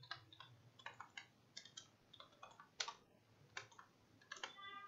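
Keys clack on a computer keyboard in quick, irregular taps. The typing is faint and close, with short pauses between bursts and no talk.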